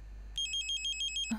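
A telephone rings in a hospital scene: one short, quiet electronic ringtone that trills rapidly for about a second, with no talk.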